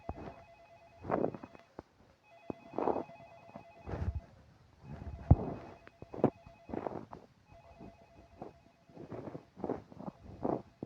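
An old telephone rings in a horror video game, repeated bursts of bell ringing at a steady rhythm, moderately close, with some background rustle and no speech.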